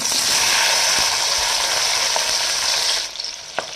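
Chopped onions frying in hot oil, a loud, close, continuous sizzle that drops off sharply near the end, followed by a couple of faint clicks.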